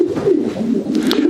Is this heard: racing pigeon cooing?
yes